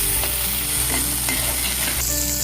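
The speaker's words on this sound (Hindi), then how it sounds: "उसी कढ़ाई में मैं टमाटर को भी थोड़ा सा फ्राई कर लूंगी" Tomatoes frying in oil in a kadhai, with a steady sizzle and the scrape of stirring throughout, no voices.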